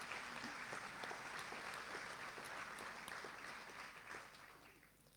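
Audience applause for the stage band at a high school senior academic awards ceremony, a broad wash of clapping that holds steady, then gradually fades toward the end.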